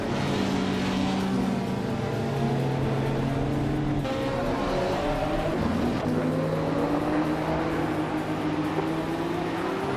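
Racing cars in a video game race, including a 1994 Volkswagen Golf R6, drone steadily with rising and falling engine tones, several motors layered close by across the whole stretch.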